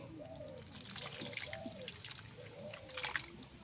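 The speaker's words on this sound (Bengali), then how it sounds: "তালটিকে এখন ভালো করে ধুয়ে নেব" Water trickles and splashes softly as a ripe palm fruit is rinsed, with pigeons cooing repeatedly in the background.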